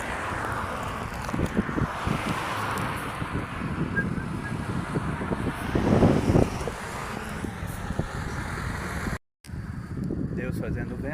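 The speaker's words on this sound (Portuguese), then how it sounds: "Deus fazendo um pouco de vento na cidade de Joinville nesse exato momento" Wind blows through the city of Joinville near the Dona Francisca cemetery, a constant rushing roar buffeting the microphone and swelling briefly, with someone speaking over it and distant traffic underneath.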